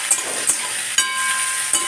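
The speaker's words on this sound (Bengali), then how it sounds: "আমি পাঁচ দশ মিনিট আলুটা ভাজি" New potatoes frying in a pan make a loud, continuous sizzle close by, broken by a few sharp stirring knocks at regular intervals.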